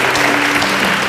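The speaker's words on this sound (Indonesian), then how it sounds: "Kita berikan tepuk tangan" An audience at an Indonesian school event gives a student a round of applause, loud continuous clapping that fills the brief moment.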